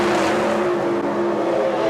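NHRA drag racing cars rolling into the staging beams at the 1992 Oldsmobile Springnationals, a steady loud engine drone with strong low tonal hum held throughout, no speech.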